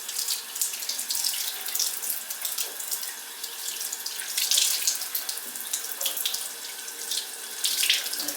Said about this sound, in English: And then give them a good hot rinsing.